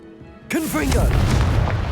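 A Confringo fire spell bursts in Hogwarts Legacy, giving a sudden loud boom after a brief quiet lead-in, followed by a sustained crackling, rumbling roar with swooping whooshes layered over it.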